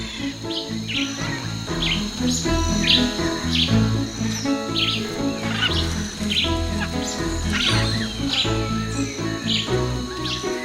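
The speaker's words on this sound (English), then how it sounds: "These glorious parrots set the forest ablaze and fill the air with their raucous calls." Forest air full of bird calls in a dense, continuous chorus, harsh squawks of scarlet macaws mixed with chirping and insect buzz, loud and unbroken throughout.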